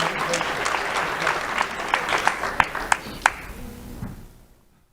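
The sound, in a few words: audience applause for Millie Angie Ferreira and Grayson Admire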